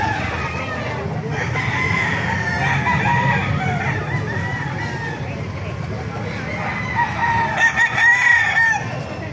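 Roosters crow repeatedly at a rooster market in Baliuag, Bulacan, several calls rising over a busy crowd with people talking throughout.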